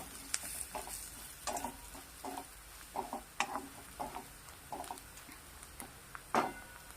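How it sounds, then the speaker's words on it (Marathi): Goda masala and coriander sautéing in a pan, with soft sizzling and repeated stirring scrapes in a steady rhythm, heard up close with no talking. "गोडा मसाला थोडीशी कोथिंबीर मसाले छान एक दोन मिनिट परतून घेऊया"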